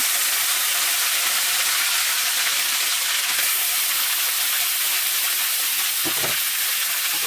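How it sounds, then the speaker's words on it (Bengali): Fish lowered one by one into hot oil in a pan gives a loud, continuous frying hiss that stays even for several seconds, close up, with a couple of faint knocks near the end. "তেলটা আমার গরম হয়ে গেছে। এবার মাছগুলো একে একে ছেড়ে দেবো।"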